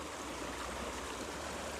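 Water trickles through an ITEHIL portable water filter in a soft, steady, faint stream with no voices.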